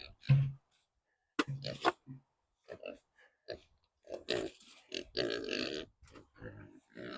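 A few short, low pig grunts close by on a homestead, scattered between stretches of someone talking.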